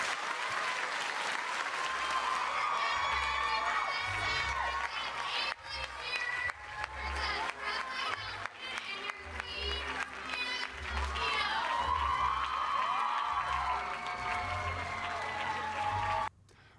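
Sustained audience applause with some cheering honoring a group of scholarship girls at a Wenatchee Valley event, a steady loud wash of clapping lasting over fifteen seconds before cutting off.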